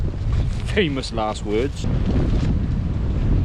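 Strong wind buffets the microphone outdoors while someone sets up a camping tarp with guy ropes and pegs. A steady, low rushing roar continues throughout, with a person talking briefly over it.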